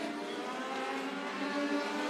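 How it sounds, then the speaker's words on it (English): Legend cars run hot laps on a short oval, a dense, steady engine drone from several cars at a distance, droning evenly throughout with no talk. "Round of legend cars up for hot laps."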